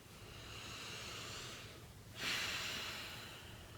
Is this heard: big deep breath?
yes